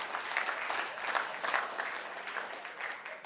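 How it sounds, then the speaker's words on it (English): Lecture-hall audience applause during an economics talk on fiscal policy, a steady wash of many hands clapping at moderate volume with no voice over it. "I suspect most of the people doing the applauding are British."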